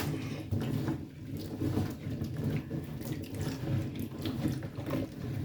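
Vegetables, pink radishes among them, are swirled by hand through a basin of water mixed with baking soda, giving a steady close sloshing and rushing swirl with faint knocking underneath.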